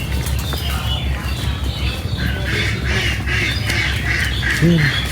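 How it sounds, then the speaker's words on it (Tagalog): A flock of ducks quacks and squawks in rapid overlapping bursts at an outdoor spot in Vietnam, moderately close, over a constant background of ambient noise. "Daming duck."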